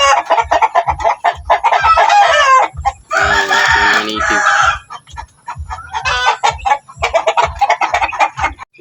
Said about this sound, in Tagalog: sa ating mga native na manok